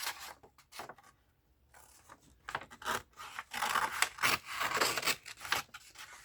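Scissors snip through a stiff paper grocery bag in a series of crisp, close cuts, with short pauses between strokes and a longer sliding slice toward the end.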